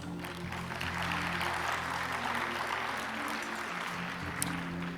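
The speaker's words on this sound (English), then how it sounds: "Please give a round of applause." An audience applauding at the Sasakawa Award ceremony for disaster risk reduction, a steady, dense clapping that stays loud and even throughout from a large crowd in an indoor hall.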